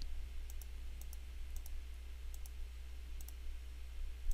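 A computer mouse clicks while a polygonal lasso selection is drawn, giving faint paired clicks repeated at about half-second intervals over a low, steady background hum.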